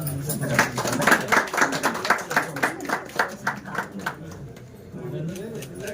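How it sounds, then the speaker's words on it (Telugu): An audience at a coronation ceremony claps in a quick, steady burst that peaks and then thins out, while a voice talks over the applause. "అందరూ చప్పట్లు కొట్టండి."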